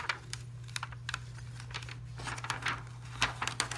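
Heat transfer vinyl in one color layer of a design peels off its carrier sheet with faint, crisp crackles and short ticking snaps at irregular intervals. A steady low hum runs underneath.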